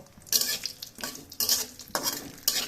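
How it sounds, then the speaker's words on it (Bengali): Black gram (kalai dal) dry-frying in a pan, stirred in four regular sweeps, each a bright scraping rustle of lentils over metal, close and fairly loud, with quiet gaps between and no talking. "এই যে কলাই ডালটা এখন সুন্দর করে একটু ভেজে নেব"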